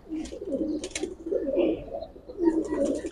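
Giribaz pigeons coo in a loft, soft rolling coos repeating close by, with faint chirps and rustling in the background.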